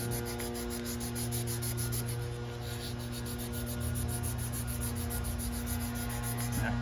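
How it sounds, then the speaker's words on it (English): Folded paper is rubbed steadily back and forth inside the joint of a Native American ceremonial pipe, a soft continuous sanding sound heard alone at low volume. "all this sanding can be done"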